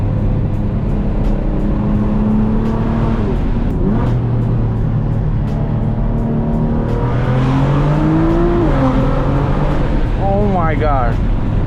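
A BMW E92 M3 with a loud exhaust accelerates hard on a canyon road, its engine note climbing steadily and filling the cabin from close by, with a voice talking over it throughout.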